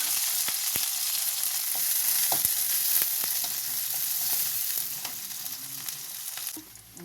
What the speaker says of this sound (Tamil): கடுகு போடணுங்க, வெங்காயங்க, கருவேப்பிலை, வெங்காயமெல்லாம் போட்டு வதக்கிடணும்